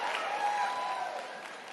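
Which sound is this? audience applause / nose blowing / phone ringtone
audience applause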